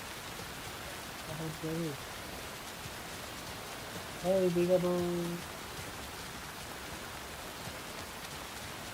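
Steady rain falls in the video game Alan Wake 2, a soft constant hiss across the whole stretch, with a person speaking briefly twice over it.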